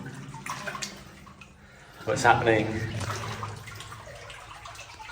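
Water sloshing and splashing inside a flooded old mine, a burst of close wading or pouring noise midway after quieter trickling, with voices talking faintly around it.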